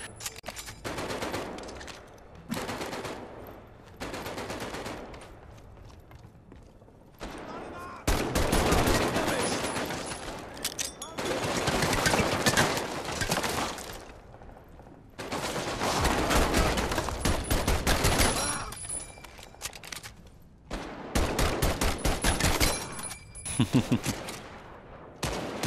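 Gunfire in Medal of Honor: Above and Beyond, a World War II video game, comes in long, loud automatic bursts of rapid shots. Brief pauses break up the sustained volleys.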